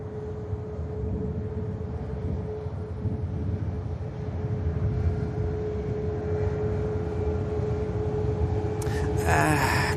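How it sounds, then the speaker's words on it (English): A Norse Atlantic Boeing Dreamliner airliner bound for Bridgetown, at Manchester Airport, gives a steady broadband engine roar with a sustained whine, holding level throughout with a brief sharper burst near the end; no talking. "Here's the Bridgetown bound Norse Dreamliner."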